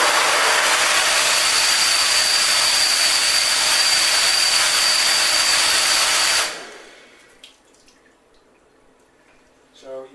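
A pressure washer sprays hard against screen printing emulsion at close range, making a loud, steady hissing roar for about six seconds before cutting off, followed by quiet dripping and small clicks.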